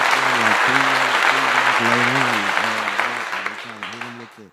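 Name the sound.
applause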